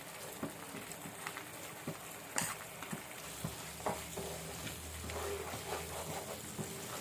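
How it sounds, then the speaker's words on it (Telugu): Fried dry fruits being stirred into pumpkin halwa in a pan: steady soft sizzling with scattered scraping and stirring taps, close and continuous, no talking. "మనం ముందుగా ఫ్రై చేసి పక్కన పెట్టుకున్న డ్రై ఫ్రూట్స్ వేసుకుంటున్నాము."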